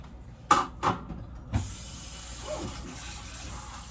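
A tap runs while something is rinsed out, a steady moderate stream of water following a few knocks and splashes at the start.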